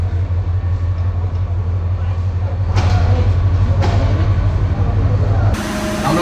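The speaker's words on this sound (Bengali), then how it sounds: "ট্রেনটার নাম হচ্ছে পর্যটক এক্সপ্রেস, ঢাকা থেকে কক্সবাজার যাচ্ছে" The Paryatak Express, an AC train from Dhaka to Cox's Bazar, pulling out of a station: a loud, steady low rumble with rising rattles partway through, and some voices nearby.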